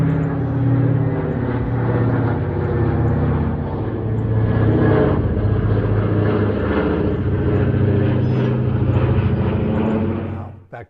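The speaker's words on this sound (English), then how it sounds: "I was out walking today and a B-17 flew overhead." A Boeing B-17 bomber passing overhead outdoors, its piston engines giving a loud, steady droning roar that holds throughout and then cuts off abruptly at the end.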